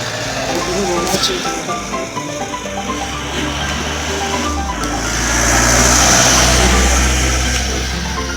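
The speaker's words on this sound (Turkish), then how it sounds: "Arabalar geliyor. Ana yoldayız." Cars pass along a main road, a steady rushing traffic roar that swells as one vehicle approaches near, with people talking throughout.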